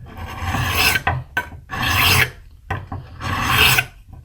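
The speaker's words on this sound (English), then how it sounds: "With a new broadhead or a broadhead that's been used for a while, you usually go to the file" A hand file rasps along a broadhead arrow tip in three long, even strokes, each a loud close scraping rush separated by short quiet gaps.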